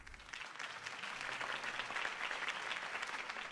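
Crowd applause after a campaign speech in Batman: The Telltale Series game, a dense, steady clapping rising quickly and sustained at moderate level from a distant audience.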